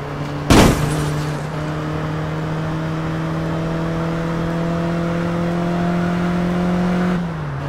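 A stolen car in the game APB Reloaded drives along with a steady engine drone after a sharp bang at the start, holding one pitch before dropping slightly near the end, loud and without talk.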